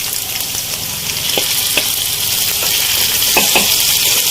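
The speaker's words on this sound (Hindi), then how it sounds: "और अब मैं यहाँ इसके अंदर शामिल कर रही हूँ अपनी भिंडियाँ" Okra dropped into frying onions in a pan, a loud, continuous close sizzle that builds slightly, punctuated by a few short scraping stirs.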